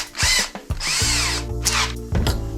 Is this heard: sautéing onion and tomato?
no